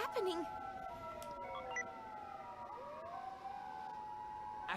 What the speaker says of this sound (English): Police cars, fire trucks, and ambulances were coming and going endlessly in every direction.